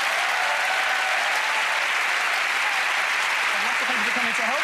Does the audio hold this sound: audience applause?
yes